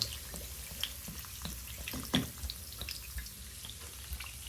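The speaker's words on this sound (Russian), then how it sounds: "Теперь я добавляю минералки. Газированная вода." Soft fizzing and trickling of sparkling mineral water being poured into shashlik meat, faint and close, with a few small splashes and a steady hiss.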